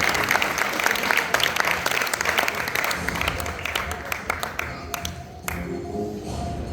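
An audience at a Jain community event gives loud, sustained applause, a dense patter of many hands that stays strong for several seconds, then thins to scattered claps with a murmur of voices underneath.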